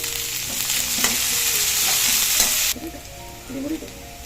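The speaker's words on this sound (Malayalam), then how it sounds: "സവോള എന്നിവ ചേർക്കാം കറിവേപ്പില ചേർക്കാം" Onions and curry leaves sizzle loudly in hot oil in a pan for a kadachakka thoran, with stirring scrapes, then the hiss drops abruptly and quieter stirring and sizzling continue up close.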